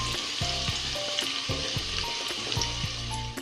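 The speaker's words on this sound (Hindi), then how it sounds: "हमने अपनी प्याज इतनी ही ब्राउन करनी है।" Onions frying in oil in a pan for lobia masala, a steady close sizzle with occasional stirring scrapes and clinks throughout, no voices.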